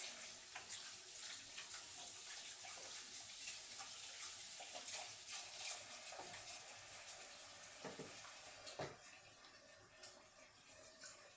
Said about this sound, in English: Yeah, I'm gonna wash my hands